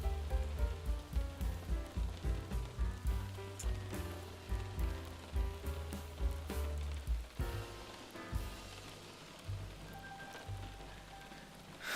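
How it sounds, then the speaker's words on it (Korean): Rain falls steadily over a soft rhythmic pulsing background, with a continuous hiss of drops throughout and no speech. "빗소리 진짜 듣고 있으면 너무 편해."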